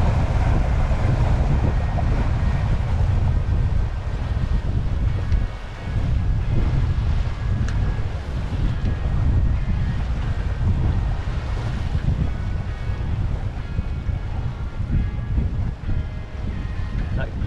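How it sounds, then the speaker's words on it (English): A wind gust rushes over a sailboat on Kentucky Lake, a continuous low roar of wind on the microphone mixed with water noise, loud and steady throughout. "That nice gust helped us go more north."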